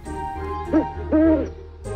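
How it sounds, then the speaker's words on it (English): An owl hoots twice, a short call and then a longer one, close and clear over a steady musical bed in a bedtime story. "he spotted an owl sitting on a tree branch nearby."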